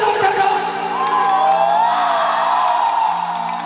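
A large crowd at a Maithili stage show shouts and cheers loudly in a continuous roar of mixed voices and whoops, with sustained tones from stage music running underneath throughout.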